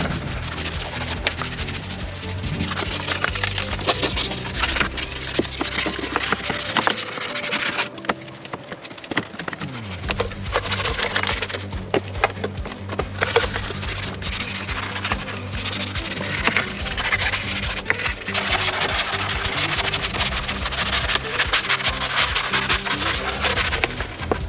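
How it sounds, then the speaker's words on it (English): A brush scrubs mud from the wheel wells and body creases of a heavily soiled BMW being rescued, with continuous rough rubbing strokes, a brief dip midway, then steady scrubbing again, loud and close. "I scrubbed the wheel wells and body creases carefully"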